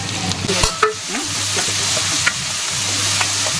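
Chopped tomatoes, green chillies and curry leaves frying in a pan, a steady close sizzle with scraping stirs and clinks of a utensil, no talking.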